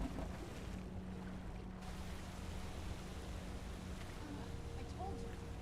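Steady rushing water from a waterfall in a video game, a broad continuous wash that holds evenly throughout at low level with no distinct events.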